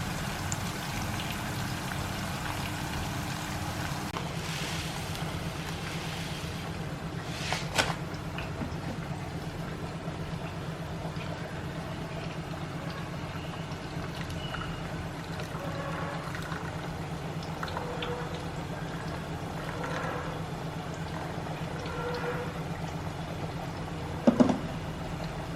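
Bitter gourd frying in oil over a low flame, giving a steady, soft sizzle and patter of crackles that runs evenly through the whole stretch, with a couple of slightly louder pops near the end.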